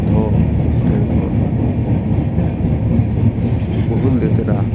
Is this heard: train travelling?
yes